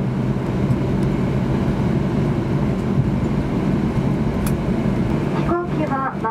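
Steady loud cabin rumble of an ANA airliner taxiing to a stop after landing at Fukuoka Airport, a continuous low roar with a brief voice near the end.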